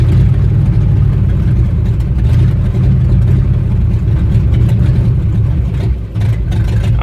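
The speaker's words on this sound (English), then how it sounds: "So we'll see if we can get it to idle here for you." The engine of a GMT 400 pickup truck idles up close, giving a loud, steady low rumble with a slight uneven pulse and one brief dip near the end.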